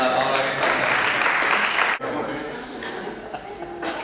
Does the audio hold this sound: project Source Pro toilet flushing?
no